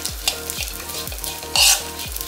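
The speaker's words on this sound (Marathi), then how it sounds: "ड्रायफ्रुट्स पण साधारण 1 मिनिट या तुपामध्ये आपल्याला छान परतून घ्यायचे आहेत" Cashew, almond and pistachio slices fry in hot ghee for rice kheer, giving a steady close sizzle with a spoon stirring in regular strokes about twice a second and one brief louder hiss.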